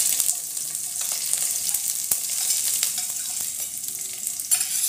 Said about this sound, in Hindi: इसे हल्का सा फ्राई कर लेंगे।